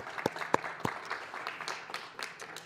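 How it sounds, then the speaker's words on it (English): A modest audience at a book ceremony gives a student a round of applause, a few loud close claps standing out from lighter, scattered clapping around the room. "let's give him a round of applause"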